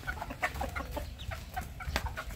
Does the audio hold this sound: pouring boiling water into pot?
no